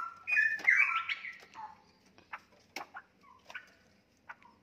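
Cucak rowo (straw-headed bulbuls) call with a bright warbling phrase, followed by scattered short chirps and clicks from caged birds nearby, fairly faint and without any talking.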